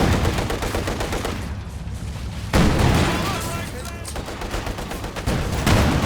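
Machine gun fire in Company of Heroes 2, a World War II strategy game, rattles in dense rapid bursts amid other battle noise, loud and close, with a voice talking over part of it.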